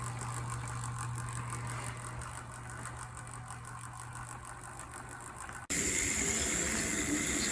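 A stock O scale model locomotive drive turning over at just above 2 volts gives a steady low mechanical whir with a faint rattle, close and quiet, then jumps abruptly to a louder, brighter hum near the end.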